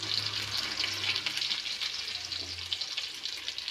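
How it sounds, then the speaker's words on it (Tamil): Onions sauté in hot oil with mustard seeds, a soft steady sizzle with faint crackles close by. "வெங்காயம் போட்டு வதக்கணும்."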